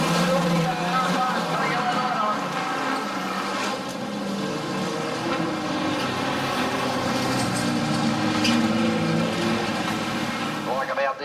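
Street stock race cars roar around the dirt oval at Gunnedah Speedway in a steady, continuous engine drone, with an announcer commentating over the racing throughout.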